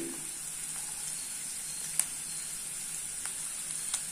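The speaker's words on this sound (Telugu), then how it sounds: "కొంచెం కొత్తిమీర కరివేపాకు వేసుకుని ఫ్రై చేసుకోవాలి ఈ క్యారెట్ ముక్కలు ఉన్నాయి కదండి ఇందులో వేసేసుకోవాలి" Carrot pieces with coriander and curry leaves fry in a pan for carrot rice, a faint continuous sizzle broken by a few sharp crackles and pops.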